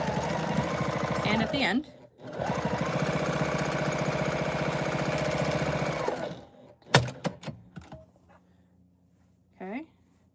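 A sewing machine runs a quarter-inch seam on a tote bag, a steady close whirring drone for about six seconds with a brief pause, then stops; short taps follow and a voice speaks briefly near the end.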